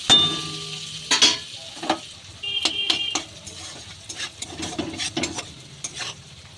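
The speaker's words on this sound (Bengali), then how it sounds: "পেঁয়াজটা আমি লাল করে ভেজে নেবো, তার মধ্যে একটু নুন দিয়ে দিলাম" Onion frying with salt in a pan gives a steady sizzle, with sharp metallic clinks and scrapes as the spatula stirs against the pan.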